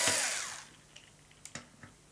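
Short whir of an electric screwdriver undoing screws on a vintage Hoover Constellation vacuum cleaner, a brief motor spin-down followed by a few faint clicks and taps nearby.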